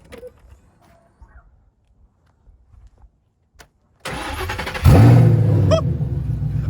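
A Shelby GT500 engine cranks and fires up with a loud roar about four seconds in, then settles into a deep, rumbling idle after faint background noises.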